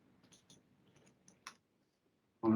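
A few soft, sharp computer mouse clicks land one after another near the start, then a brief pause before a louder thump of activity at the end.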